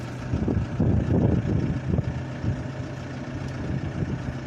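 A military-duty car repaired by volunteers in Kherson runs with its engine idling, a steady low hum with rougher, louder rumbling in the first two seconds that settles into an even drone.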